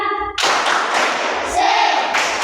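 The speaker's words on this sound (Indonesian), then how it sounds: "Tepuk semangat." A third-grade class performs a rhythmic spirit-clapping chant. A brief voice calls out first, then a loud, dense burst of many children clapping together runs to the end, with some voices mixed in.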